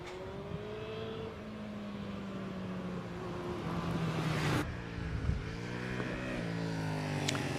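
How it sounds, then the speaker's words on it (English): A KTM Duke motorbike racing at the Prescott hill climb, its engine droning and shifting pitch as it passes, with a steady whine and a sudden gear change midway, heard from a moderate distance with no talking. "over the finishing line shortly will be Dave Norris on his KTM Duke"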